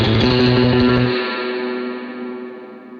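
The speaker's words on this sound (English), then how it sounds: "The surfer tremolo is exactly what you're expecting to hear." Surf-style guitar patch from E-Instruments Desolate Guitars with heavy tremolo and distortion: a single strummed chord pulses rapidly for about a second, then rings out and fades with echo and reverb.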